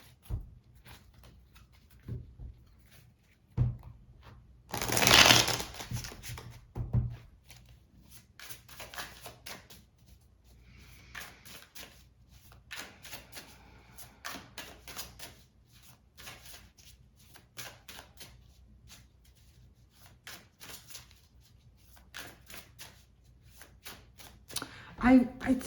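Tarot cards handled and drawn from a deck, soft brushing shuffles with one louder burst of riffling, while a voice talks quietly over most of it.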